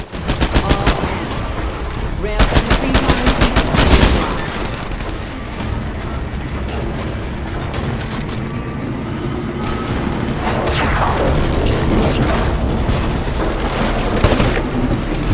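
Rapid weapon fire strikes a target during a Titanfall campaign battle, with dense machine-gun bursts and booming shots rolling almost without pause over heavy mechanical rumble, loud and close throughout.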